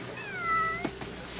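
A cat gives a single clear, drawn-out meow that rises and then falls, heard close and loud. A couple of soft knocks follow just after it, with no speech.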